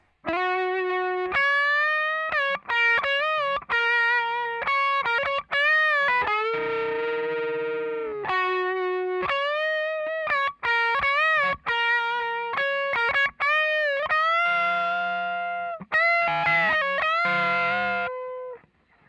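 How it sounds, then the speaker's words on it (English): A distorted electric guitar plays the harmonized guitar 2 solo, two lines moving together in sustained, bent and slid notes, loud and continuous with no talking. "So guitar 2 solo sounds like this."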